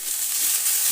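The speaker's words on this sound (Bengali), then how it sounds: "ফুলকপি দিয়ে দিলাম, দিয়ে ভালো করে নেড়ে চেড়ে" Cauliflower florets frying in hot oil in a pan while being stirred, a brief, steady close sizzle heard alone.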